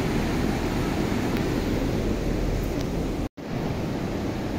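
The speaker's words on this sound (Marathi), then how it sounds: "हे बघा ही नदी" The Seti (White Gandaki) river near Pokhara rushes with a constant broadband roar, its milky white water heard close and loud, with a momentary dropout partway through and no speech.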